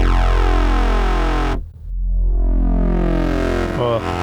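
A sustained brassy synth tone from an Ableton Operator patch with a rich buzzy timbre cuts out briefly, then swells back in with a filter sweep.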